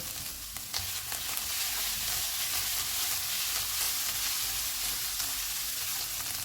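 Beef keema with fresh coriander is stirred in a frying pan. A loud, continuous sizzle fills the whole stretch, with the soft scrape and rustle of mixing running beneath it and no voices.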